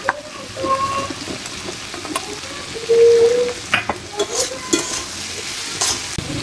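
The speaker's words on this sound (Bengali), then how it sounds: "সবজিটা ভালো করে নেড়ে নেব।" Vegetables for a Bengali pui mejri ghonto with turmeric and chili powder sizzle in a pan as a utensil stirs them, with scraping strokes and soft clinks up close and no voices.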